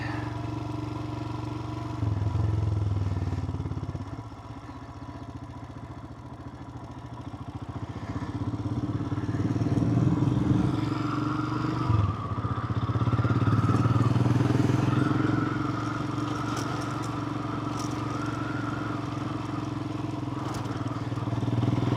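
A motorcycle rides off-road across a beach on the Isle of Barra, its engine buzzing and surging near and loud with clattering thumps over the sand, easing back at moments before pulling away again.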